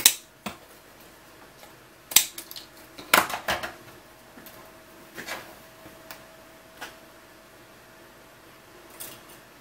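Scissors trim printed parts on a RepRap Wilson TS 3D printer, giving a handful of sharp, irregular snips and clicks close by, with quiet pauses between cuts and no talking.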